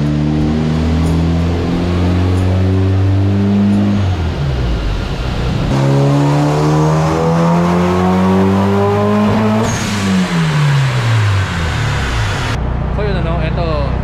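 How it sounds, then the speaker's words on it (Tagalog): A stock Mitsubishi Evo 9 revs hard on a dyno, its engine climbing through repeated loud rising pulls with drops between gear changes, close up and steady throughout. "dyno tuning ang nagaganap"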